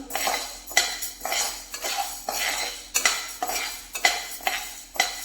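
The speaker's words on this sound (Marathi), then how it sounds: "कंटिन्यू हलवत राहायचं आहे ज्वारीला" Jowar grains roast in a pan over low flame while a spoon stirs them, making rhythmic scraping strokes roughly every half second with a rattle of grains, close and without talk.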